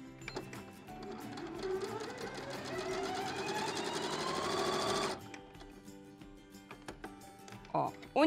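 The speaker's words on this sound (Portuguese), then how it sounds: "E aí eu vou fazer uma costura para unir essa faixa." A sewing machine runs a continuous fast stitching burst for about five seconds, joining a fabric strip for a crib pillow, close and clear, with small handling clicks and soft noises after it stops.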